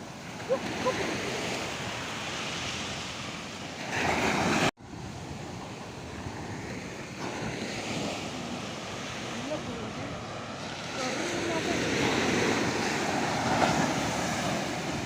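Sea waves wash ashore at Alleppey beach in a steady, broad roar with wind buffeting the microphone, a brief dropout midway, and surf swelling louder toward the end.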